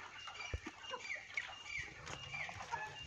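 Chickens cluck and chatter in a busy farmyard, several birds calling over one another with a few sharper squawks, close by and steady throughout.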